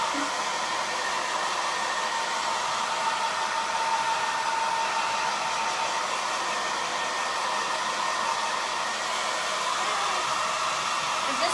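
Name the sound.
hair dryer drying ink on a shirt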